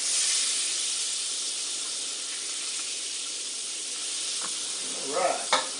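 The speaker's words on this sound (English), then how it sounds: "this is 1 stick of butter here in our pan over here. We're going to let that melt real good." A stick of butter melting in a good hot pan gives a steady bright sizzle and hiss throughout, with a couple of small pops and stirring clicks near the end, no talking.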